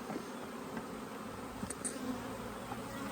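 Honey bees hum steadily around an open hive box during queen grafting, a soft, dense buzzing drone with a few individual bees passing close by.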